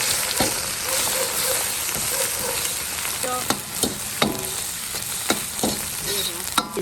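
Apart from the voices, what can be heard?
ginger, garlic and chili frying in hot oil in a wok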